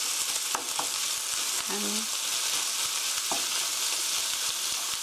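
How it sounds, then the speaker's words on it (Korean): Ground pork stir-fried in a pan for a soybean paste sauce rice bowl, with a continuous loud sizzle and a few sharp utensil scrapes against the pan, and no talking. "다 섞어서 고기가 하얗게 될 때까지 볶아주세요."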